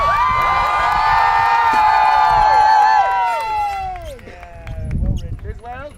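A crowd at a Renaissance faire joust cheers and whoops loudly for about three seconds, the roar fading into scattered shouts and children's voices, with a low thump near the end.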